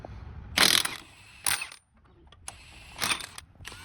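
Ratchet wrench clicking as lug nuts come off a truck wheel, three close bursts of rapid ratcheting separated by short pauses and softer handling noises.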